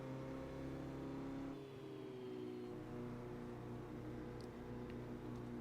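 A Formula 3 race car engine in a racing video game, holding a steady droning note with a slight pitch shift, heard at a moderate level.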